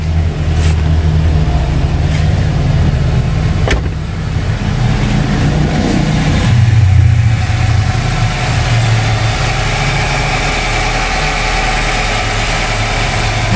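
A Nissan X-Trail engine warming up and settling to idle, a steady close mid-pitched hum with a brief rise in revs partway through before easing back to an even idle, no voices.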